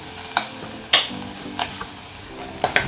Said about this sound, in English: So I'll just put in my onions